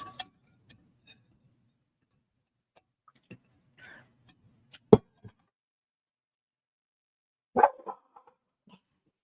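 A dog barks in two sharp, separate outbursts at a man using a weed eater outside, against near silence, with faint scattered clicks and ticks in between.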